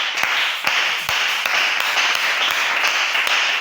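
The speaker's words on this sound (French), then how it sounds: "On acclame le Seigneur." Church congregation clapping to acclaim the Lord, loud rhythmic clapping from a crowd with sharp regular beats about every half second that continue steadily.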